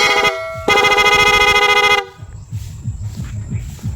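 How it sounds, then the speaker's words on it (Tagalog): Two loud, close horn honks, the second held longer, then an engine idles with faint chatter and clatter. "At ito yung ating loud horn with rapid."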